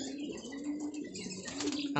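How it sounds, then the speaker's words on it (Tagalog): Newly moved-in racing pigeons of the Acero Cross Barkley line coo softly and close by in a loft, a low steady burbling hum with a brief chirp near the end, faint voices murmuring underneath. "Ayan o, yan mga kalapatids, bagong lipat din yan."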